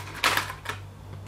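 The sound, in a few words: colored pencil coloring in a letter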